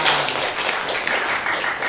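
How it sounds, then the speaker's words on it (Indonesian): A classroom of students clapping their hands together in a short, dense burst of applause, steady and fairly close, lasting just under two seconds with no talk over it. "Tepuk tangan dong buat Dewi Sang."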